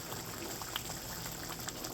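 A covered pan of Afghani paneer gravy, thinned with hot water, simmers with a soft, steady bubbling and hiss, faint and continuous with no talking.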